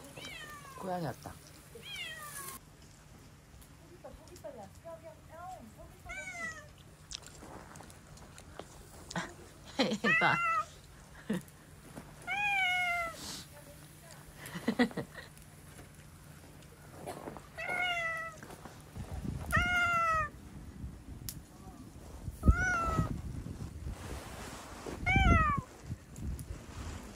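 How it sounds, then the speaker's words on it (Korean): A cat meows repeatedly outdoors at a glamping site in bitter cold of minus 19.5 degrees. The short, high meows come at irregular intervals, moderately close, with people talking now and then. "고양이 소리야?"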